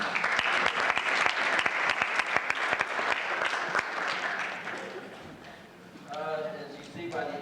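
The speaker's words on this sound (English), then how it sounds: "we'll all give him a round of applause for the great work that he's doing" Banquet audience at a high school cross-country team dinner gives a sustained round of applause, dense clapping for about five seconds that thins out, with a voice speaking near the end.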